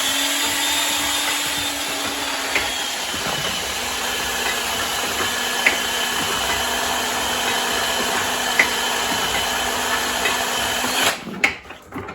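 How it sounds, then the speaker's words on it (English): A handheld power drill drives a C & P 8 x 12 letterpress, giving a steady motor whine with faint mechanical clicks from the press cycling, ending in a few clunks as it stops. "I tried the idea of using my drill just to see if that would work."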